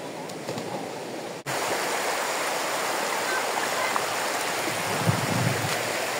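River current on Sibuyan Island, Romblon, rushing in a steady, full broadband wash close by, with a brief dip near the start before the flow resumes evenly.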